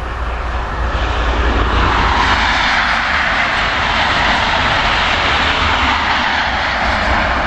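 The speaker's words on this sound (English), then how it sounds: "there's a freight coming up there in a minute" A freight train in a railway video game rumbles as it approaches, a loud, steady, broad roar with heavy low-end drone that holds for several seconds with no talk.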